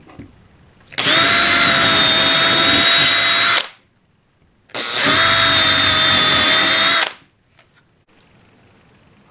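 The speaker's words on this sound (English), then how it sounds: "Okay, now you've marked both sides, we can now drill them." An electric drill bores through a wooden model railway baseboard frame, whirring loudly in two sustained bursts of about three seconds each, separated by a short pause, with a steady high motor whine.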